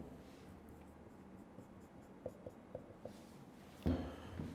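Chalk or marker tapping and stroking on a board during a chemistry lecture, four light evenly spaced taps followed by a firmer scrape, quiet against low room hum with no talk.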